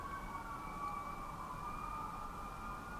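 Emergency vehicle sirens near a highway wail faintly in the distance, a steady high tone holding without pause over low traffic rumble.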